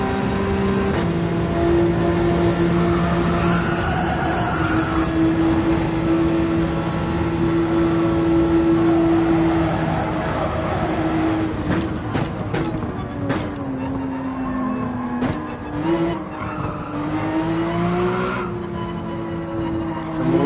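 Car engine in Gran Turismo 7 holding light throttle on the Highway 1 track, a steady droning hum with shifting pitch throughout, some tire noise and faint talk in the mix.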